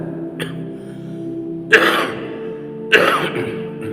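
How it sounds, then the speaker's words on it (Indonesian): Two short, rough coughs from a man with flu, spaced about a second apart, close and fairly loud, over a faint steady hum. "batuk flu lagi beratnya"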